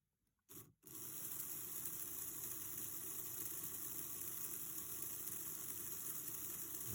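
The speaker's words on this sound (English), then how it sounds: "Okay, so we'll run this motor up." A Scalextric Lotus C82 slot car motor, lifted so the back wheels spin freely, whirs steadily after a short start-up, a constant close electric hum with no talking.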